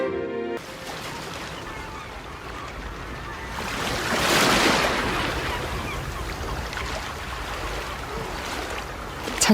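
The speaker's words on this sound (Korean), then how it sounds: "잔잔한 파도가 밀려드는 바닷가에서" Gentle sea waves wash onto a beach in a steady broadband hiss, with one swell near the middle. The sound runs on without a break at moderate loudness, with faint wind and no speech.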